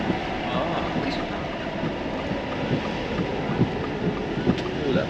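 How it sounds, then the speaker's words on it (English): Strong wind gusting during a tornado storm in Nebraska, a continuous heavy roar buffeting the microphone with slight surges, with faint voices in the background. "that was a gust"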